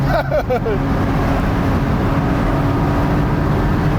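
A 2020 Porsche 718 Boxster Spyder engine pulls steadily in fourth gear, a continuous loud low drone with road and wind roar throughout and no talking.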